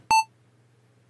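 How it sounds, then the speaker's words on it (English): A single short censor beep, a pure bright tone lasting about a fifth of a second, sounds loud and alone before near silence with a faint low hum. "I'm using this beep button too much"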